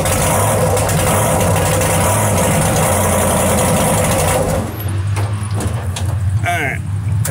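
A hot rod drag car engine idles at a loud, steady, deep rumble for several seconds, then settles and thins out toward the end while people talk over it.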